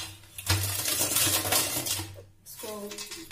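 Roasted peanuts are pressed under a metal pot to loosen their skins, giving clattering, scraping metal-on-nut rattles over a few seconds with a soft ringing from the pot.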